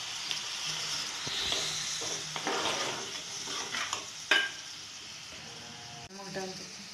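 A paste frying in a pan crackles and sizzles up close, broken by utensil scrapes and clanks against the pan, with a voice talking over parts of it.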